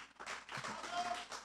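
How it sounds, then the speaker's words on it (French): Brief, soft applause from an audience at an evening lecture on Haiti's education system, a short patter of clapping heard at a distance and fairly quiet. "je vous redemande aussi de les applaudir chaudement"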